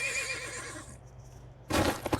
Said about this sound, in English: I'm glad I don't have to fucking make the fucking horse sounds.